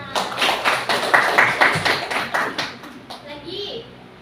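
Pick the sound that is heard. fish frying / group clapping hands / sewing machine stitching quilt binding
group clapping hands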